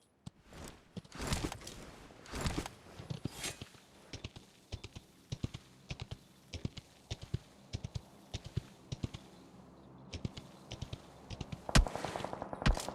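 Enemy gunfire in PUBG Mobile, with rapid bursts of sharp shots, some in quick clusters and some single, fairly close and loud with quiet gaps between, and no talk over it.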